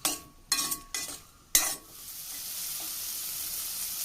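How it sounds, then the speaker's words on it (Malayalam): Bitter gourd fries with spices in a pan: a spoon scrapes and stirs in three quick bursts, then a steady, even sizzle carries on alone, close by with no voices. "ഇടയ്ക്കിടയ്ക്ക് ഇങ്ങനെ ഇളക്കി കൊടുക്കണം കേട്ടോ അല്ലെങ്കിൽ കരിഞ്ഞ് പോവും"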